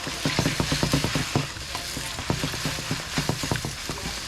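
Eggs stir-fry on super high heat for Samoan fried rice, a dense crackling sizzle broken by quick rhythmic clacks of a utensil scraping and tossing in the pan, close and lively, with no talking.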